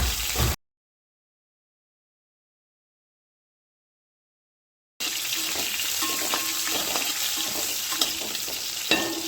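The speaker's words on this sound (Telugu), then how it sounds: "ఇలా గ్రీన్ చిల్లీస్ని కూడా లైట్గా ఆయిల్లో ఫ్రై చేసుకోవాలి" Green chillies frying lightly in oil in a pan, a steady close sizzle with small crackles and pops, heard after a long silent gap at the start.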